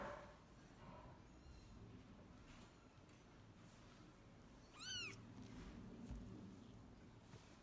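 A five-week-old kitten at a shelter gives a single short, high meow midway, faint against a low background rumble and soft handling noise.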